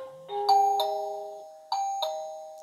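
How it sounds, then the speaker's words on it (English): A doorbell rings out two melodic chime sequences, bright ringing tones that sustain and fade, close and clear with no talking. "you can hear the chime there"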